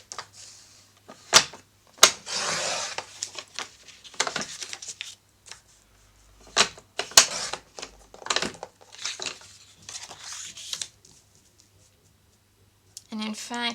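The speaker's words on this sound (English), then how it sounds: "I'm just going to cut a strip about 4 inches wide across the bottom" Scissors cutting a strip of floral scrapbook paper, with short crisp snips and paper rustles in separate bursts across the clip; a voice talks between the cuts.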